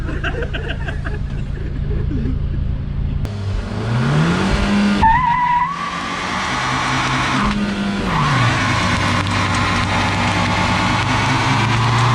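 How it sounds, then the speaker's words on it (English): A car drifts with its engine revving hard and tires squealing and skidding, a loud, continuous roar that rises and falls over several passes, with a voice briefly heard in the mix. "That drifting's not for people who value the lungs"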